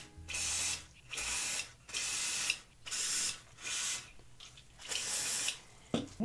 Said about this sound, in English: Spray some of these connection points out.